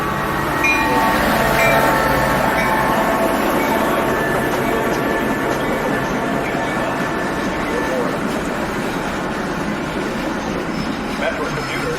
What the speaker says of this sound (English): The next outbound Metro train from Chicago is now arriving in your station.